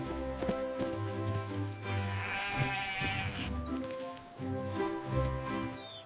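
Cartoon sheep bleat repeatedly, long wavering calls overlapping one another over a steady, busy backdrop, fairly close and loud.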